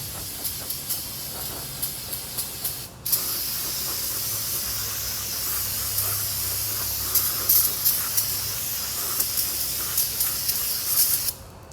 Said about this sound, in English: Take your rotor, blow out all this extra brake dust.